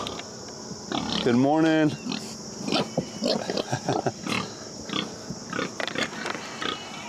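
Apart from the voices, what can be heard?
pigs grunting at feeding time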